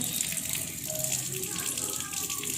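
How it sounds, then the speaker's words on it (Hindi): Water runs steadily while a wash basin is being washed in a home, a continuous close hissing splash with slight fluctuations throughout. "ये धो रही है लड़की वॉश पिशन।"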